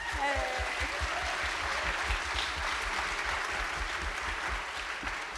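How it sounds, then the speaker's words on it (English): Audience claps steadily at a silent film screening with live music at a cinema, a sustained wash of applause at moderate volume with a faint voice near the start. "Let's give them a round of applause"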